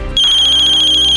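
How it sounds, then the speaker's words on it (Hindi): A phone ringtone rings loudly and steadily with a bright repeating electronic tone, cutting in abruptly after a brief moment of quieter sound. "किसका फोन है?"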